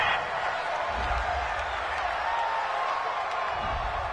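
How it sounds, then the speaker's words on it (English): A home stadium crowd at an NFL game, Jacksonville Jaguars at Pittsburgh Steelers, cheers a penalty flag with a sustained roar, heard under a commentator's voice. "This home crowd, they're happy with that call."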